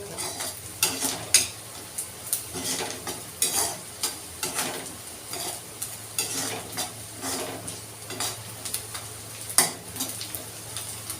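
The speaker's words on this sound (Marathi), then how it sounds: "कांदे आपण असे ब्राऊन करून घेतलेले आहेत" Onions browning in a pan, stirred with a utensil: a steady soft sizzle runs underneath while scrapes and light clinks come every second or so, close up and without speech.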